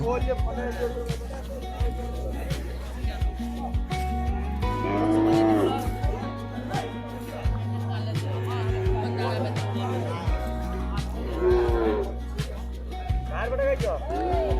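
Several cattle moo loudly in long, low calls over a busy crowd at the Purandarpur cow market in Birbhum, with voices murmuring throughout.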